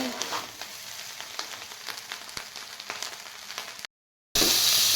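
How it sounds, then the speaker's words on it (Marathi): Vegetable pulao ingredients fry in a pan, a quiet continuous sizzle with occasional clicks of stirring, broken by a short silent gap before a sudden louder hiss. "फ्राय करून घेऊ"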